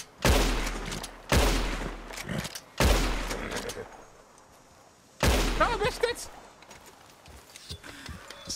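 Four heavy gunshots boom out in Red Dead Redemption 2, spaced about a second apart at first and then after a longer gap, each loud with a ringing tail, while faint game sounds fill the pauses.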